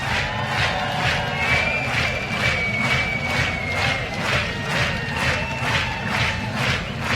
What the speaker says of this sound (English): He likes your applause.